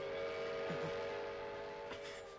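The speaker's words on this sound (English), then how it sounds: "there's your train" A train in an anime episode of Fullmetal Alchemist: Brotherhood gives a steady, sustained whistle tone, fairly faint and alone over a low hum.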